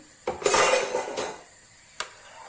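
A spoon scrapes and clinks against a pot of Turkish sour meatball soup, a long scraping stroke followed by a single sharp knock, close and alone.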